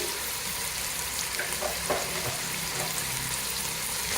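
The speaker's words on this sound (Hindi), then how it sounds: "अच्छी तरह से भूनेंगे।" Mutton seasoned with crushed black pepper, salt and cumin sautéing in a pan for Peshawari namkeen gosht, a steady close sizzle with a few faint stirring scrapes, no voices.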